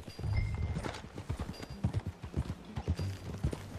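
Horse hooves clip-clopping in the Red Dead Redemption 2 video game, a steady run of soft hoof beats over a busy game ambience.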